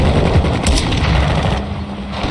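Mortar strike in Call of Duty Warzone 2.0 lands as a loud, dense rumbling barrage with a sharp burst early on, then a sustained heavy roar of explosions and gunfire.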